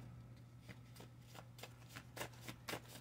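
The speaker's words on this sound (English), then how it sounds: "Oh, let me shuffle." Tarot cards shuffled by hand in a quick series of crisp riffling flutters, about a dozen close bursts over a few seconds, soft and dry against a quiet low hum.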